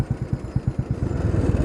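Royal Enfield motorcycle engine thumping steadily while riding toward a mountain, a close, loud, rhythmic low pulse with no talking.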